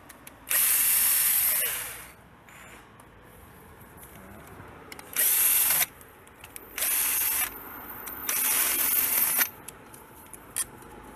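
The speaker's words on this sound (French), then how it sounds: "Maintenant, je recommence avec perceuse." Power drill working on a Bosch VP44 diesel injection pump module, running in four loud bursts of a few seconds each separated by quiet pauses with faint handling clicks.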